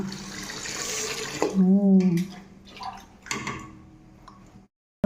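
Running water hisses steadily from a tap for a few seconds, then stops, with brief voices and clatter afterward.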